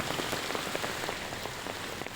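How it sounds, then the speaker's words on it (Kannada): Hailstorm rain pours down in Hubballi during a spell of hot weather. A dense, loud, continuous hiss of drops hits hard surfaces, with scattered sharper pattering impacts and no voices. "ಹುಬ್ಬಳ್ಳಿಯ ಆಲಿಕಲ್ಲು ಮಳೆಯ ದೃಶ್ಯವನ್ನ ನೀವು ನೋಡ್ತಾ ಇದ್ದೀರಿ"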